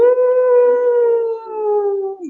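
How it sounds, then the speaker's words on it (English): A single long, steady canine howl holding one pitch before sliding down at the end, close and loud, like a wolf howling, with no other sounds. "If you're deep in those territories around this time, the wolves are howling."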